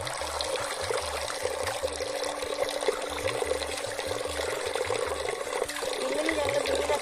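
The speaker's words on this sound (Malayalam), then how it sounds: "വെള്ളം ഇങ്ങനെ നല്ല വൃത്തി കഴുകിയെടുക്കും" Running water pours and splashes steadily as fish is washed clean, with a rhythmic low mechanical thumping and faint voices underneath.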